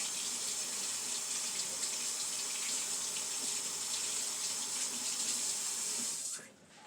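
Warm tap water runs steadily into a kitchen sink over eggs, a constant close hiss and splash that stops abruptly near the end.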